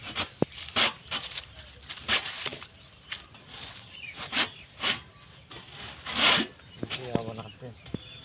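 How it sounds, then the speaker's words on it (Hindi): An old hand saw cutting through a marked ber tree branch during pruning, rough rasping strokes in an uneven rhythm, close by, with a voice speaking in between. "अब यहाँ से इसको कट करने जा रहे हैं।"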